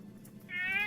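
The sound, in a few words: cat meowing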